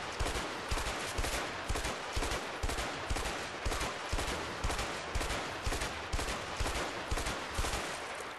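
Rapid gunfire from the video game A Way Out: loud, evenly paced shots repeat about every half second for the whole stretch, a steady rhythmic volley with no talking.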